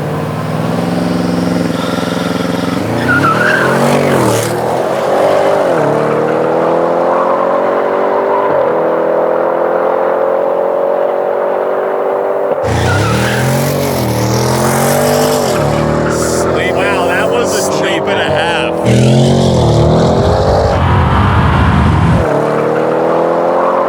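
A 700 hp Audi RS6 Avant and a Tesla at a no-prep drag race, with loud engine revs, a hard acceleration through rising gear pulls and cars roaring past close by over about twenty seconds.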